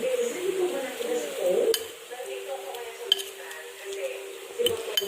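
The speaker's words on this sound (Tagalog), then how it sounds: "you may now put the apple there and mix it" A spoon stirs diced apple into pancake batter for a baby's apple pancake, giving soft scraping and squelching in a bowl with a few sharp clinks of utensil on the rim.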